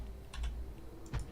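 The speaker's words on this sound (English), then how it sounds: "make sure I got the right button on the keyboard" A few quick, light clicks on a computer keyboard during a Factorio session: short taps in small clusters, faint and close, with no voices.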